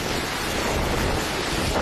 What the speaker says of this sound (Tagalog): Mataas din ang alon sa baybayin ng Apari.